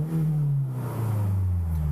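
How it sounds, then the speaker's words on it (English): A Scion tC with a manual gearbox revs in neutral, its engine drone steady and close, rising slightly in pitch as the throttle is held, with no talking over it. "I'm about to press the gas right now. Hopefully you guys can hear that. That's me pressing the gas."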